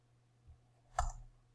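A single computer mouse click, one short, quiet tick standing alone against a faint low hum, with a softer tap shortly before it.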